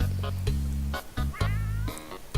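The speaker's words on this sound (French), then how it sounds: "Encore le chat là, Starfall là" A cat meows in the survival video game 60 Seconds, several short cries over a steady low droning game soundtrack, with a wavering call near the middle, no talking.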